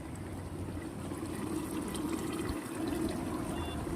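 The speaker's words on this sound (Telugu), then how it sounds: "మంచిగా ఉడుకుతుంది చూసినట్టయితే" Sambar bubbling in a pot on the stove, a steady close liquid simmer with continuous gurgling and no pauses.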